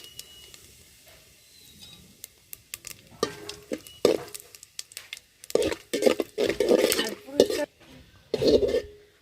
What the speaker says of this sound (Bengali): তেল গরম হয়ে গেছে, এখন ফোড়ন দিয়ে দেব